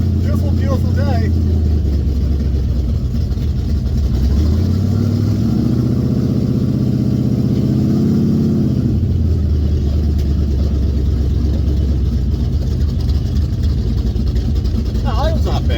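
Chevrolet Vega car engine idling steadily, a loud, continuous low rumble recorded close up, with a brief rise and fall in pitch midway.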